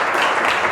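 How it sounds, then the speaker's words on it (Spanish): Audience applause for a speaker at a Spanish-language talk on tax aspects of investments, a steady dense wash of clapping filling the short moment without any talk. "Un aplauso bien grande para David todos."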